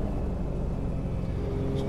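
A powerful car drives in Assetto Corsa on the Ebisu Touge track, its engine droning steadily and fairly loud, with a voice talking over it.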